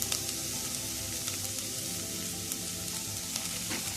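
Red cabbage and carrot sizzling steadily in a hot pan, a continuous close, even frying hiss with small crackles throughout, and no one talking.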